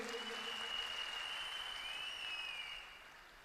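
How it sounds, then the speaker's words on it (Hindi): Applause for a production team at a company presentation, a continuous wash of clapping that tapers off near the end, heard faintly with a steady tonal hum running through it. "तो एक बार जोर तालियां हमारी पूरी प्रोडक्शन टीम के लिए।"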